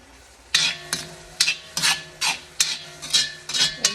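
A spoon stirs balsamic-seasoned food in a cooking pot, about ten scraping strokes in a steady rhythm, close and clear over a faint sizzle.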